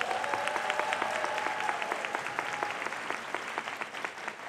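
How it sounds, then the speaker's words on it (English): Sustained applause from a crowd at a girls' leadership school graduation fills the hall, a dense steady clapping that holds throughout with a faint voice underneath. "So let's give them a round of applause."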